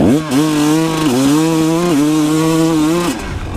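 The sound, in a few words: dualsport motorcycle at full throttle off-road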